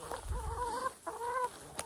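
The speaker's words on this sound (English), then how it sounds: "there's so many chickens around me right now" Chickens clucking around a feed pail on a farm, two short bursts of close, loud hen calls with a pause between them.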